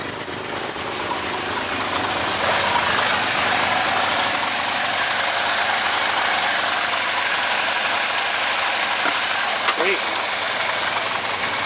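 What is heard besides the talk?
1967 Mercedes engine idling after cold start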